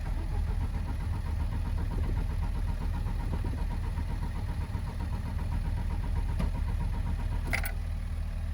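A Peugeot 405 engine idles steadily up close, a low continuous rumble with an even throb, and a couple of faint clicks near the end.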